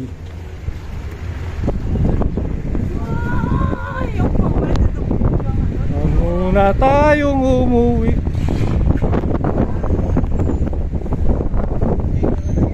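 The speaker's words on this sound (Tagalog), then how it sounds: "Lakas na ng hangin, medyo malakas na yung alon." Strong wind buffets the microphone aboard a ferry crossing from Siquijor toward Dumaguete, with rushing air and choppy water noise throughout, and someone speaks briefly over it.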